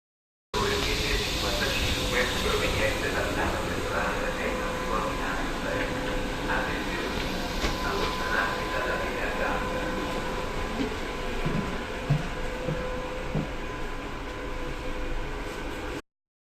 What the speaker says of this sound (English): let's now take a look at Bergamo train station